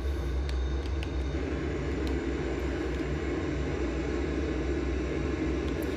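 An F/A-18 Super Hornet jet engine in the VRS SuperBug simulator throttles up to a steady, loud, broadband roar and rumble that holds constant throughout, with faint clicks on top.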